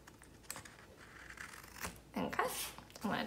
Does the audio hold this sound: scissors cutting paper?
yes